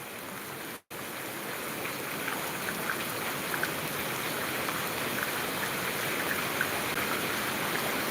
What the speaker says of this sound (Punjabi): ਬਹੁਤ ਤੇਜ਼ ਮੀਂਹ ਆ